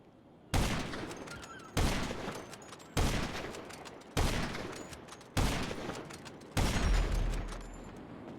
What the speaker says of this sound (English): So the laser blows up in 6 shots.